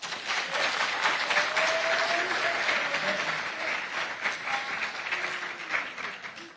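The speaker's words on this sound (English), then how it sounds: "Please clap for them." At a school science and maths quiz competition, an audience claps for the competing schools, a dense, sustained wash of applause that stays even and fairly loud before tapering slightly.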